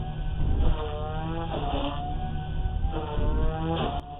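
A Blade 180 CFX RC helicopter with its rotor spun up in idle up 2, giving a loud, close, continuous whirring drone whose pitch rises and falls in repeated waves, with a brief high tick near the end.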